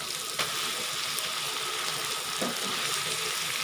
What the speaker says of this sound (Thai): ใส่ลงไปเลยครับ แล้วก็ผัดไปเลย